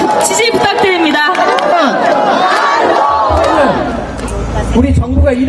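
A crowd at an outdoor political campaign rally in Yangcheon district, Seoul, roars with loud cheering and shouting, a dense swell of many voices that rises and fades over several seconds.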